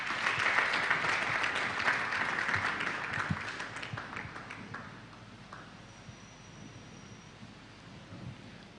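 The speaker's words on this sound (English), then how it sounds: "I was hoping you won't stop clapping until she leaves this stage." Audience applause at a graduation ceremony, a dense wash of clapping from a large crowd that is loud at first and gradually thins and fades over several seconds, heard alone.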